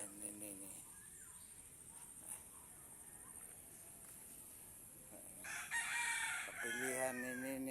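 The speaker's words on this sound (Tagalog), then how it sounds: "Ay mga manok." Chickens clucking and a rooster crowing around a rural home in Allen, Samar, mostly faint in the background, with louder calls near the end, while a person talks over part of it.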